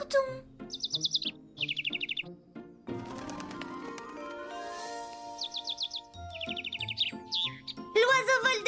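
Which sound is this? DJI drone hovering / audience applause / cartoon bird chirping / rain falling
cartoon bird chirping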